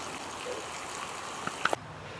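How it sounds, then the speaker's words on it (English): Water from a long garden hose runs steadily into an above-ground pool, a soft continuous trickle and splash with a few brief clicks near the end. "So I'm filling the pool with water, and I've got this way of doing it where I see that I got this hose, a long hose, garden hose"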